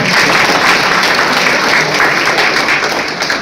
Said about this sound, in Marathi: शेंडगे सरांसाठी जोरदार टाळ्या झाल्या पाहिजे